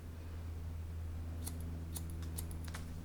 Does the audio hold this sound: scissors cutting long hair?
yes